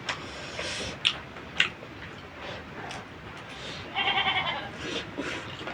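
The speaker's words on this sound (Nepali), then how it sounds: "बाख्रा कराउनु भयो बाहिर।" A goat bleats outdoors at a household in Nepal, a quavering call rising near the end over faint background noise, with a few short clicks earlier.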